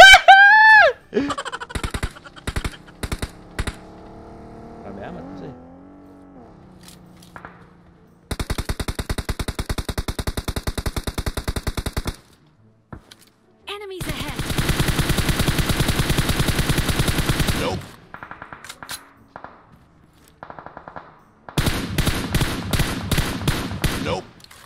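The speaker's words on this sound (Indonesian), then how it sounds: "gua ditembak dari sono guys" Loud rapid bursts of automatic gunfire from the PUBG Mobile video game come in several long stretches separated by pauses, with a voice speaking in between at the start.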